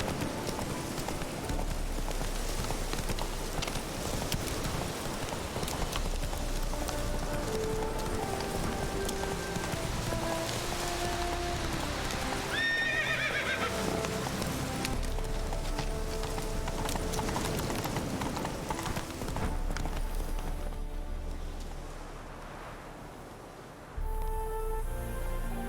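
Roach the horse gallops in The Witcher 3: Hearts of Stone, a steady, close drumming of hoofbeats that runs for most of the stretch over game ambience and music, then fades near the end.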